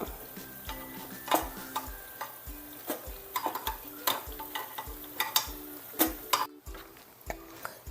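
Unniyappam rice fritters frying in oil over a gas flame, a constant low sizzle punctuated by frequent sharp metallic taps and scrapes of a spoon against the pan.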